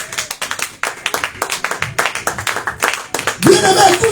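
A church congregation at an Easter service claps in a fast, steady rhythm. The applause is close and lively, with voices rising near the end.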